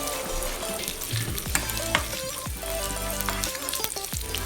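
Raisins roasting in a pan for payasam crackle and sizzle steadily, with a few utensil taps and stirring scrapes, close up and without talk.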